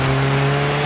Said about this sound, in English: This game has a really good engine sound